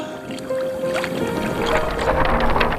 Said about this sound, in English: we're cruising right along here under sail power